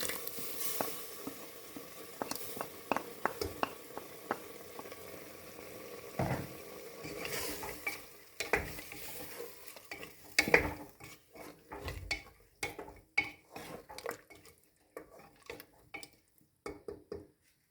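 Spices mixed with yogurt fry briefly in a pan, with a quiet sizzle and irregular clanks and scrapes from a utensil stirring against the metal.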